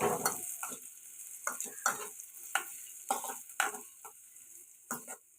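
Onions frying with curry leaves in a pan, bursts of crackling sizzle and spatula scrapes coming in uneven pulses between quieter moments, close and fairly loud.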